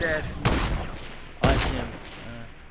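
Gunfire in Fortnite Battle Royale: two sharp, loud shot bursts about a second apart, each trailing off, with a player talking between them.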